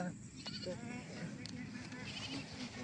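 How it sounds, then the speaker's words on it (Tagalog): Goats bleat faintly in the background amid outdoor noise, with a few wavering calls rising over a low rumble. "Yung mga kambing na guys."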